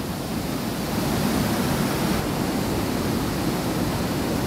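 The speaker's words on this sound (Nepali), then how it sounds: "यो चाहिँ लाङटाङ खोला हो" The Langtang river rushes past Bamboo on the Langtang trek in Nepal, a steady, loud, broadband roar of whitewater that stays constant throughout, with no voices.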